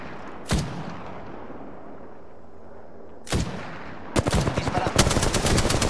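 Apex Legends gunfire: a few single loud shots, then a rapid burst of automatic fire near the end, over a steady background din.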